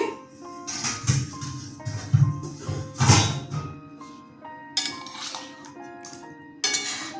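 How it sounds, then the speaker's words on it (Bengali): A metal lid comes off a cooking pot of curry, sounding as a series of bright clinks and ringing metallic taps with a few dull knocks, close and clear in a quiet kitchen. "কিছুক্ষণ পর ঢাকনাটা খুলছি"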